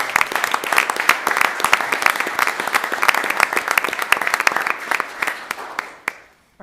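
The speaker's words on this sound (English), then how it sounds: "How about a round of applause for CJ?" A room at a live city council meeting breaks into a round of applause for an award winner: brisk, crisp clapping from a modest crowd, steady for several seconds before tapering off and stopping.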